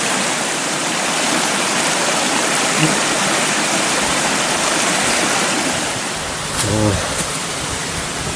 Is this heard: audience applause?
no